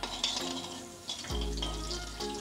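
Oil and ghee sizzle loudly in a hot pan while cooking traditional Bengali yellow basanti polao, a steady close frying hiss with a brief clatter midway.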